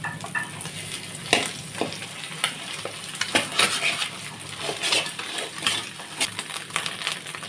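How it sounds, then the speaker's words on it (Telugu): Egg frying in a pan for egg fried rice with leafy greens: a steady sizzle with frequent sharp clinks and scrapes of a spatula stirring against the pan, close and fairly quiet, no talking. "ఇప్పుడు ఎగ్ కూడా బాగా ఫ్రై అయిపోయింది."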